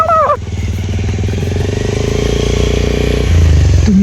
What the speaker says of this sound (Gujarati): તો મિત્રો બાઇક વાળા આવી ગયા છે એક